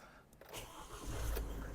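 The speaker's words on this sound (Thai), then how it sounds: "ขออนุญาตทำการสตาร์ทให้ดูนะครับเครื่องยนต์ของคันนี้นะครับ" A 2021 Isuzu Mu-X SUV's 1.9-litre diesel engine cranks and catches, settling into a low, steady idle rumble that grows louder toward the end.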